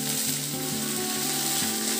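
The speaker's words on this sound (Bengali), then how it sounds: "আদাটা দিয়ে আমি সামান্য একটু জল দিয়ে দিয়েছি, খুব ছিটকাচ্ছে।" Ginger paste thinned with a splash of water sizzles and spatters in hot mustard oil with bay leaves, a steady dense hiss filling the short stretch while a low tonal hum runs faintly underneath.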